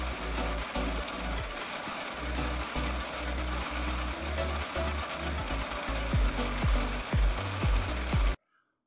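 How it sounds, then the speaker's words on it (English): A power drill whirs continuously with grinding, rattling bursts as it bites into wood drilling 5/16-inch holes, loud and close, then cuts off abruptly at the end. "Now on each of these dots, we need to drill a hole"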